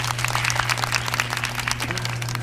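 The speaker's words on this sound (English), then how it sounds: "Can we get a round of applause?" Audience applause at a motivational talk, a dense, steady wash of clapping that holds evenly throughout, with a low constant hum running underneath and no talking.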